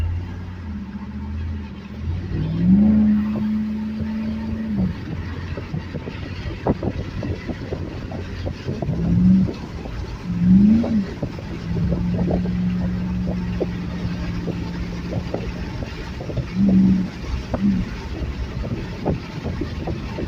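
A Hemi Ram pickup truck fitted with a K&N 77 Series cold air intake, its engine droning steadily from inside the cab and rising in several surges as it accelerates, with wind and road noise underneath.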